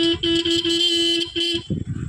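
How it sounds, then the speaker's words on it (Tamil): A single loud TVS Wego scooter horn honks in two bursts, the second shorter, followed by brief engine noise. "ஹாரன் அடிக்கிறேன் பாருங்கள்"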